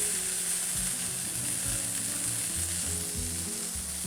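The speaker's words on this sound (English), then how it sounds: "now that we got our steak seared off" Thick steaks sear in a hot pan, producing a dense, continuous, loud sizzle that holds steady throughout with no talking.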